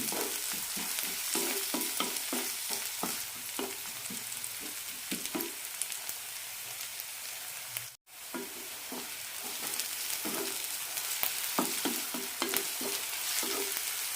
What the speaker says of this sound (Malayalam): ഇഞ്ചി വെളുത്തുള്ളിയൊക്കെ നന്നായി റോസ്റ്റായി കിട്ടണം